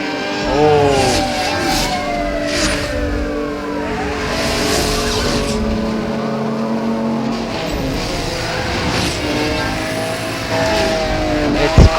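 Lamborghini Countach supercars race in Need for Speed Hot Pursuit, engines roaring and revving continuously with tire squeals and skids over a police chase, loud and steady throughout.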